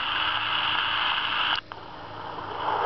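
Steady hiss of recorded rainfall from an alarm clock's speaker, a constant wash of noise that briefly cuts out and resumes slightly softer.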